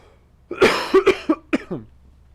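Several harsh coughs come in a quick cluster, loud and close, the last ones tapering off as fainter throat-clearing bursts.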